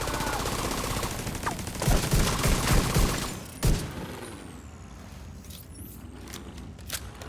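Bursts of automatic gunfire in Tom Clancy's The Division, loud rapid volleys clustered in the first few seconds, then fading to sparse distant shots over quieter ambient game sound.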